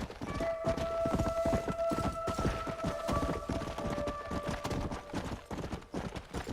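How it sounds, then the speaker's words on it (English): Horse hooves clip-clop at a steady galloping rhythm in Red Dead Redemption: Undead Nightmare, with a faint whinny and sustained tonal game sounds underneath, loud and continuous throughout. "I love this horse so much"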